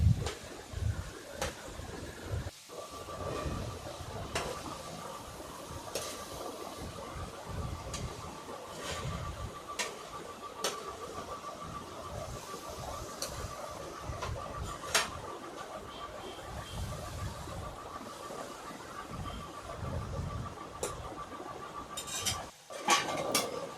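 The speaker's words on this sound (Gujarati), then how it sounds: "આપણે તેમાં સમારેલી મેથી ઉમેરી લેશું। અને તેને મિક્સ કરી લેશું।" A spoon scrapes and clinks intermittently against a pan as chopped fenugreek leaves are stirred frying in oil, with a soft sizzle underneath and occasional faint bird calls in the background over a long stretch.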